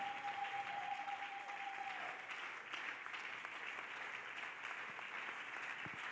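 A church congregation applauding the Lord, a steady wash of clapping from many hands that holds at even, moderate loudness throughout, with a brief tone at the start.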